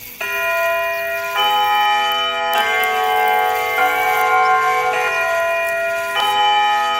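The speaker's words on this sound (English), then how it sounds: "The clock struck 6." A clock strikes six times in a children's animal song, loud bell-like chimes ringing out at an even pace. Each tone hangs and overlaps the next, with no voice over them.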